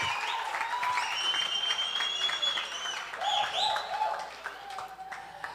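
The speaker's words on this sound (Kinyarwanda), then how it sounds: "Tukomera amashyi menshi" Applause from an audience at a gospel music performance after a singer's turn: continuous, fairly loud clapping with cheers and tonal calls and voices rising over it, easing slightly at the end.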